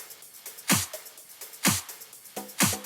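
An unprocessed drum bus carrying clap, snare, percussion, hi-hats and shakers plays a steady groove. Sharp, loud clap and snare hits land about once a second, with softer hat and shaker ticks filling the spaces between.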